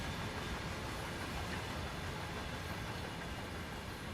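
An American freight train rolls past in a driving simulation, giving a faint, steady broadband rumble and rattle of wagons that keeps going without pause.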